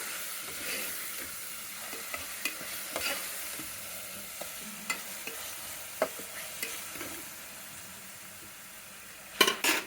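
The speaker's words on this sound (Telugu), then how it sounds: "ఇది 5 నిమిషాలు ఇది మాంసం వేగాలండి." Mutton sizzles steadily in a hot pan, a soft continuous frying hiss broken by scattered crackles and a few louder spatula scrapes near the end, close and with no talking.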